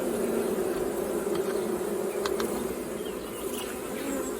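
Honey bees from a colony at a zoo hive buzz in a steady, dense drone that continues throughout, close and even, with no talking.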